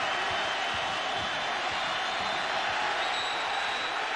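Dense, steady roar of a large football stadium crowd at a Louisville vs Memphis college game, a continuous wash of many voices with scattered shouts and no clear pauses.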